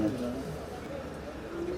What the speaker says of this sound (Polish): Sprowadziłem po prostu z Naturala 5 gołębi z linii Wouters